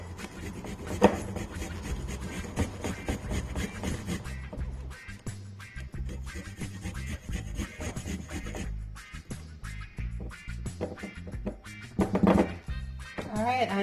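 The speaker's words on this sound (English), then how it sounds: "I am going to grate some ginger" About two inches of fresh ginger root rubbed against a grater for chicken-wing sauce, making repeated close rasping strokes with occasional light knocks, while a voice talks over parts of it.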